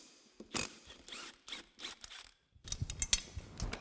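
Ratcheting clicks from a 14mm socket wrench loosening the blade bolt on an EGO 56V lawn mower, several short bursts of mechanical clatter close by, with no talking.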